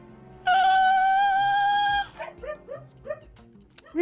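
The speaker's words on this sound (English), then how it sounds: "I didn't mean to upset your dog" A dog gives a long, high, steady whine, then breaks into a run of short, sharp yips and barks, close and fairly loud, with no talking.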